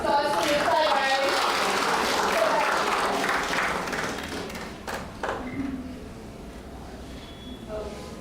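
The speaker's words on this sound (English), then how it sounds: "A big round of applause for this side, guys." An audience at a pre-departure meet for students going abroad gives a loud round of applause that slowly thins and tapers off, with murmured voices and scattered claps toward the end.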